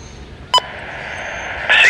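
A CN railway defect detector on the Three Hills subdivision gives a short electronic alert beep, then a second sustained tone over a faint background hiss.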